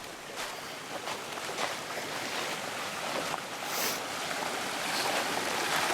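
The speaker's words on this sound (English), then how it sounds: "now we got to cross a creek" A creek runs in a steady rushing wash of flowing water, fairly close and continuous, with soft splashes and no talking as hikers cross.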